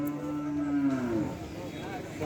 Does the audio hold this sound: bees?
no